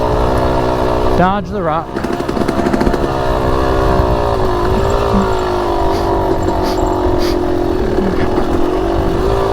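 A Yamaha YZ250X two-stroke dirt bike engine drones steadily and close while riding over rough ground, its pitch rising and falling with throttle changes, with a rider talking over it throughout.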